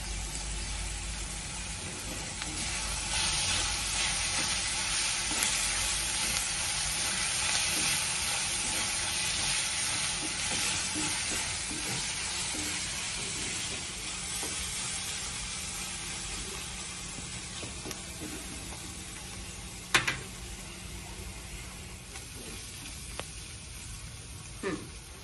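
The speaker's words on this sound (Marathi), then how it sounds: "त्यात ठेचलेला लसूण टाकायचा." Crushed garlic fries in a pan with onion and salt, giving a long, steady sizzle that slowly fades. Occasional clacks of stirring come near the end.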